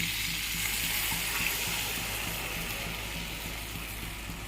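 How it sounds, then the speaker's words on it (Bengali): Water pours into a cooking pot already seasoned with salt and turmeric, a steady broad rushing hiss over a low hum that eases off slightly toward the end. "পরিমাণ মতো লবণ, হলুদ, শুধু লবণ আর হলুদ দিয়েছি। এরপরে দিয়ে দেবো জল।"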